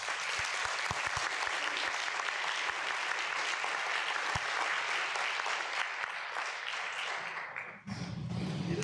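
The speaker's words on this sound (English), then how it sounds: "We have one more round of applause for Pastor Richardson." A university lecture audience claps in a sustained, fairly soft round of applause, with a few sharp knocks early on, before a voice begins speaking at the very end.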